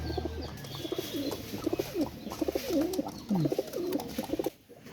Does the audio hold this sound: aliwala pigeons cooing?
yes